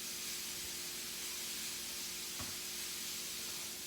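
Oil steaming in a hot pan during food prep, a steady soft hiss running throughout with one brief faint click midway, no voices.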